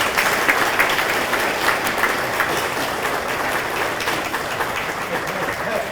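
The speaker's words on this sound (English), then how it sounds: "Let's give them all a big round of applause." Steady, dense applause from a large crowd at a high school hall of fame induction ceremony fills the whole stretch, with no pauses and a faint murmur of voices underneath.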